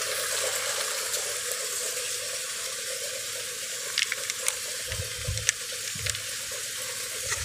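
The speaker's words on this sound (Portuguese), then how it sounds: "Que cai essa água aqui que vem do cajueiro. Com certeza eles estão esvaziando a piscina." Water from a swimming pool being emptied spills and falls down a slope past a banana plantation, a steady outdoor rush with occasional splashes and knocks over constant background hiss.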